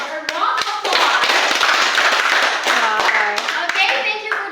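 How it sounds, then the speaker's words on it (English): A classroom group claps for itself after a performance in a lesson on types of clauses. The clapping is dense and lively with sharp hand strikes that continue steadily for several seconds, and a few faint voices sit underneath. "So can you give yourself a round of applause?"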